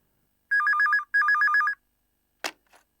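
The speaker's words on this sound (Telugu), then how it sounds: "రే, రింగ్ అవుతుందిరా, మాట్లాడు." A telephone rings with two short trilling electronic bursts in quick succession, loud and close, followed by a brief click as the handset is picked up.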